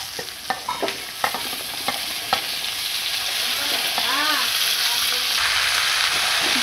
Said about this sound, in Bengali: বটবটি দিয়ে আবারও ভালো করে আমি একসঙ্গে সব নেড়ে নিচ্ছি।